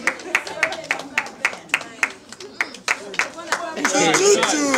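Audience members at a Congolese film awards ceremony clap in a slow, sparse rhythm of distinct claps, close and fairly loud, before talking and cheering break in near the end.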